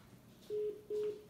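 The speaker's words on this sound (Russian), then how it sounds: "Вот телефон звонит сюда" A telephone rings through a Bluetooth speaker in two short, evenly spaced electronic tone bursts, fairly faint against low background hiss, with no talking.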